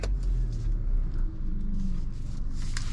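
A Hyundai i20 Elite Plus with a naturally aspirated 1.4-litre 100 hp petrol engine runs at a steady idle, a low, even rumble heard up close inside the car with no talking.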